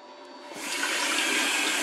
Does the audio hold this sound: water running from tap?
yes